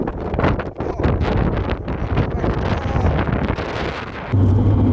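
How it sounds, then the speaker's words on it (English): Strong wind buffets the microphone in heavy, rumbling gusts, loud and close throughout, with a low steady drone at the end. "Pretty windy."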